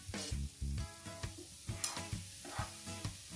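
Lemon garlic cauliflower rice is stirred in a pan, producing a run of rhythmic scraping and clattering strokes about every half second over a faint sizzle. No voices.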